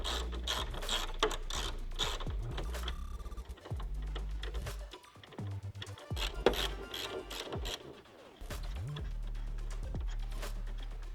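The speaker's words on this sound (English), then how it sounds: "to remove the TSS sensor, there's going to be two 10mm bolts on either side of the sensor" Ratcheting and mechanical clicking sound up close as 10mm bolts are removed from the sensor on a Toyota Tacoma grille, with bursts of wrench clatter broken by brief pauses.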